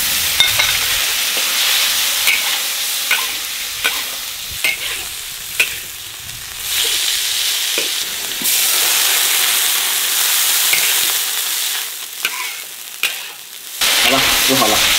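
Fish and palm flowers frying in a wok with salt, a steady loud sizzle and hiss punctuated by scraping stirs, with bursts of stronger spitting as the ingredients hit the hot oil.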